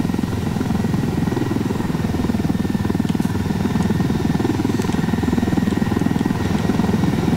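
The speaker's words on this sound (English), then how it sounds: "You wanna take that helicopter instead?" An armed helicopter in Ghost Recon Wildlands thunders close and loud, its rotor beating in a rapid, constant chop over a steady engine drone throughout.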